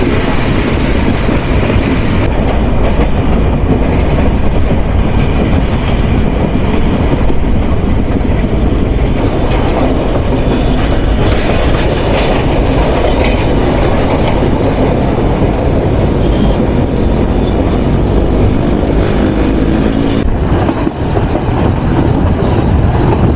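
Chitra Express passenger train running through Dhaka Cantonment station in Bangladesh, with loud continuous rumbling and clattering of wheels on rail joints, steady and close throughout.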